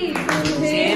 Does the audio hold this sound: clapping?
yes